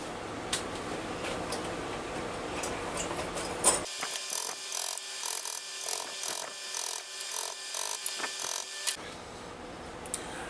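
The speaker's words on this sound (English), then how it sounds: "Now what I'm going to try to do is drive the bolt sideways and start to collapse it." A tool works a bolt stuck inside a traveling sprinkler, driving it sideways with a rough scraping rasp followed by a run of rhythmic metallic scrapes and taps, close and fairly faint.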